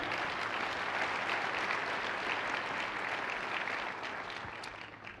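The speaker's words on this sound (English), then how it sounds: "Let's hear another round of applause for Burr and team." An audience at the Red Hat Summit 2018 technology conference keynote applauds, a dense, sustained round of clapping that holds steady and then begins to fade toward the end.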